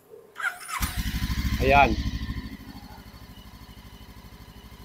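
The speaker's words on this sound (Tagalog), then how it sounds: "So yan po yung pinaka-exhaust sound niya." A budget big bike motorcycle starts up: a sharp starter whine and squeal, then the exhaust settles into a close, throbbing idle with a rapid steady pulse, briefly swelling before easing; someone speaks a single word over it.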